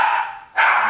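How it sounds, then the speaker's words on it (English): Two loud, close dog barks, each a sharp bark with a short gap between them, heard alone in an indoor room. "sorry about the dogs"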